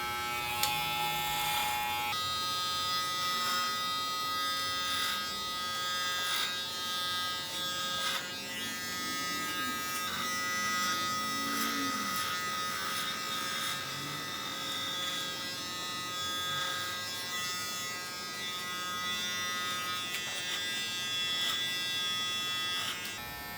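Electric hair clippers hum steadily while cutting a man's hair in a low taper, a constant close buzzing with slight changes as the blades move through the hair.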